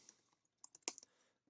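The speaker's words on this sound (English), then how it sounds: "And if you can hear me typing," Keystrokes on a computer keyboard, a scattered run of light clicks with one louder cluster midway, close and quiet with no talking.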